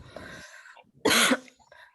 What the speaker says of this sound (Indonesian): karena batuk saya nggak hilang-hilang